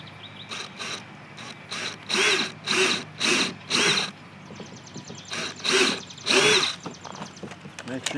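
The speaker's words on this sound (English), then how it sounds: "So we'll just go ahead and drill our other hole right here" A power drill runs in short bursts, about ten whirring pulses separated by brief pauses, close and fairly loud against a quiet background, drilling a hole to install a kayak paddle keeper.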